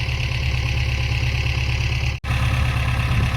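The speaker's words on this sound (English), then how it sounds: "I think I can hear the tractor's engine knocking, and that's not good." A tractor engine idling with a steady low rhythmic throb and a possible knocking pulse, close and continuous apart from a brief dropout.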